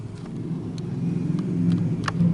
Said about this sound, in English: You get a lot of noise from traffic in the background, but the motorbike that did make the noise is gone now.